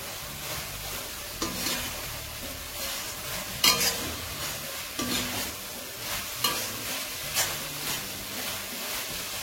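Chicken goes into a pan of pasta and is stirred while it fries, a steady loud sizzle with spoon scrapes and knocks against the pan every second or so.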